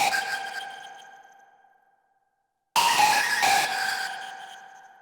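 A bright super saw synth lead note rings out and decays into silence, then a second note strikes with shimmering, granular echo textures from grain delay trailing off.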